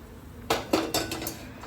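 A polished metal kadhai is handled, giving several sharp metallic clanks and knocks in quick succession over a quiet kitchen background.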